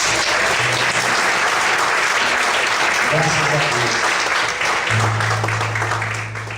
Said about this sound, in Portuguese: Vamos aplaudir ao Senhor nessa noite.